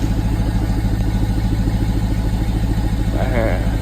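A BMW X5 50i with a bypass exhaust idles after a cold start, a loud steady low engine rumble throughout with a faint rising rev near the end.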